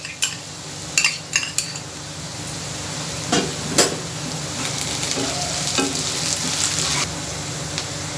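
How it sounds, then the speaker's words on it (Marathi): Ginger garlic paste frying with capsicum in a kadhai, a steady close sizzle broken by sharp metal spatula scrapes and clinks against the pan, with no talking. "सिमला मिरची परतून झाल्यानंतर आता आपण आलं लसूण पेस्ट घालूया."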